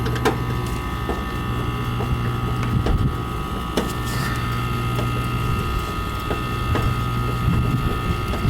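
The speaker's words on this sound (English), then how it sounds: "I can hear the compressor on it" A heat pump compressor on a system that has lost its refrigerant gas runs steadily with a low hum and faint mechanical rattle, joined by scattered clicks and ticks and light wind noise.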